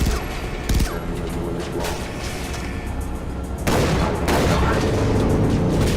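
Gunshots from the video game Far Cry 3 Blood Dragon, including pistol fire, loud cracks and booms layered over a busy game soundscape, with a louder burst of shooting in the second half.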